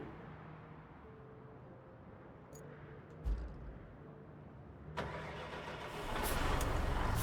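A truck engine in the driving game Roadcraft idles with a low hum, then revs and roars louder as the vehicle moves off, with a few clunks along the way and no talk.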